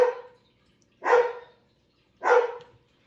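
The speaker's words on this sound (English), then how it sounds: "Wait till he's done barking." A dog barks three times in separate bursts about a second apart, each bark loud and close, with silence between them.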